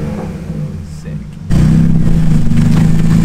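A BMW engine fitted with a budget cold air intake is heard, first as a quieter idle, then it jumps abruptly into a loud, sustained rev that carries to the end.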